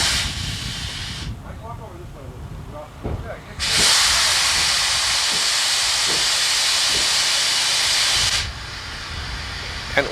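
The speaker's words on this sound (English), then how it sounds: "Here's the air hoses going way back behind Nestor's trailer where the compressor was hidden" Compressed air blasts through a pneumatic test rig for a Graboid creature effect on a film set. A loud, steady hiss runs for several seconds between softer bursts, with faint clicks and low rumble in the background.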